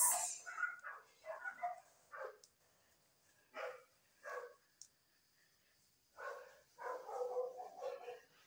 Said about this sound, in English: So I'm sorry about the sound of dogs barking.